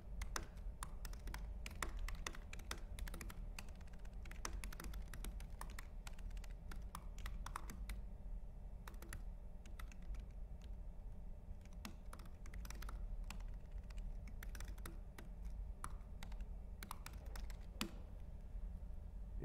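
Steady typing on a computer keyboard while writing JavaScript code in a lecture setting, a continuous run of quick, close key taps over low room hum.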